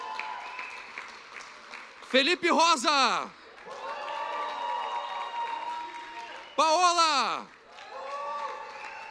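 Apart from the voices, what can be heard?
church congregation applause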